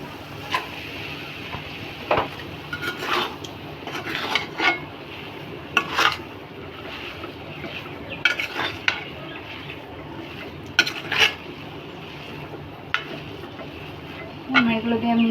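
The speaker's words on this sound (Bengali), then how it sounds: "আমরা এগুলো দিয়ে মিক্স করে নিচ্ছি আবারও" Chilli flakes, roasted cumin and garam masala powder are mixed into a raw jackfruit filling, with scattered clinks and scrapes of a spoon against a bowl over a soft background hum, close and irregular.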